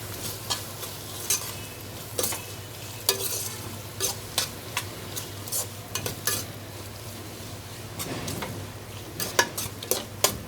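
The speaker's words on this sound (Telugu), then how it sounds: "దీన్ని ఇప్పుడు ఫ్రై చేసుకుందాం." Vegetables for veg biryani frying in a pan, a soft continuous sizzle broken by repeated scraping clicks of a spoon stirring against the pan, close and fairly quiet throughout.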